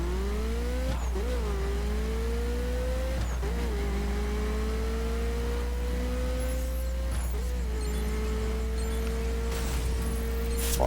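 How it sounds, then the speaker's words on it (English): Old school Ferrari engine in a racing video game, a loud steady drone rising in pitch through gear changes with three distinct shift dips, under a continuous low hum, with a faint tire squeal. "An old school Ferrari."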